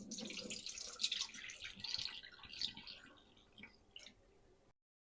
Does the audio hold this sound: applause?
no